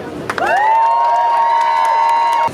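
A crowd at a climate strike rally in Sarasota, Florida, cheers loudly in one sustained swell, with a shrill whistle-like tone riding over the noise for about two seconds.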